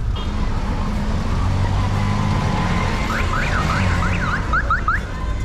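Busy traffic rumbling nearby in Ica, Peru, with a series of short, rising car horn toots clustered in the second half.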